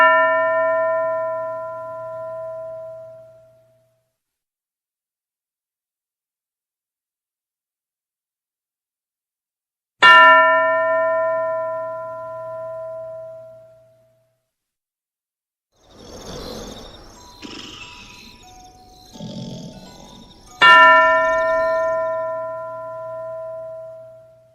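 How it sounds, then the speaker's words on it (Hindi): A bell rings three times for a classroom-style English speaking game, each strike a clear ringing tone that slowly fades, with scattered shuffling and rustling noises between the second and third rings. "और फिर अगले बच्चे के लिए घंटी बज जाएगी"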